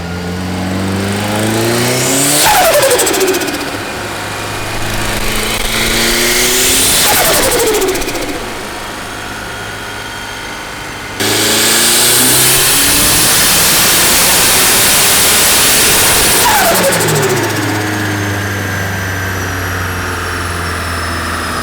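Turbocharged KA-T engine in a built car revving on a dyno, three loud rising pulls with falling exhaust tones between them, then a long sustained high-rpm run.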